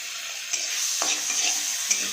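Chopped garlic and ginger sizzle in hot butter in a heated kadai for chicken soup, a steady close hiss broken by a few soft stirring scrapes.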